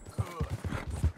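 Horse hooves clip-clop in a quick, steady rhythm on the ground in Red Dead Redemption 2, close and clear with a faint whinny.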